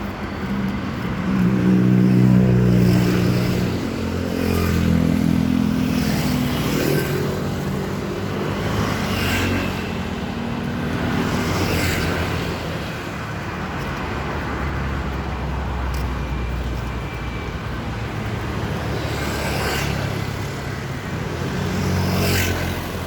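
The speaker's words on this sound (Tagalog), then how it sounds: "Mabilis yung sasakyan" Fast vehicles pass one after another along a busy road in Manila, a steady roar of traffic with repeated swells as cars and motorcycles rush close by.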